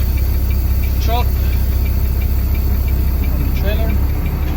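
A truck engine idles just after being uncoupled from its trailer, a steady low rumble that stays loud and constant throughout, with a voice briefly heard over it.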